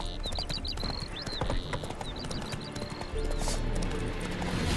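Hooves of Roach, a horse in The Witcher 3, clip-clop steadily and close up throughout, with a brief whinny mixed in over a busy game soundscape.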